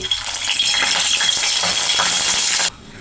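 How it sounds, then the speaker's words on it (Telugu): Piece of asafoetida frying in hot oil for tempering while making Andhra gongura pickle, giving a bright, dense sizzle that runs steadily for under three seconds and then stops abruptly. "ఈ విధంగా ఇంగువ మంచిగా వేగాలండి"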